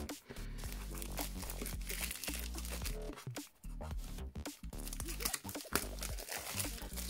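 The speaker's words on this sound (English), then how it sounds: "get into the cellophane with my blunt scissors" Continuous crinkling and crunching of cellophane wrap on an earbuds box being cut with blunt scissors and pulled apart, close up, with short pauses between bursts.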